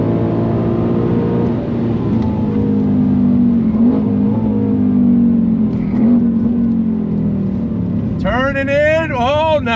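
A 2024 Ford Mustang Dark Horse with a 6-speed manual holds a steady, loud engine drone while its tires are heated, with a voice talking over it before the revs climb and swing sharply near the end.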